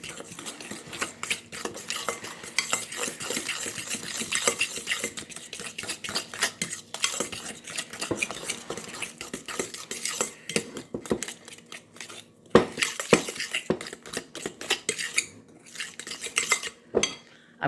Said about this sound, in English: I'm just going to take a big fork, a dinner fork, if you will, and I'm just going to stir all this together.